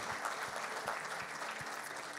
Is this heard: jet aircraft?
no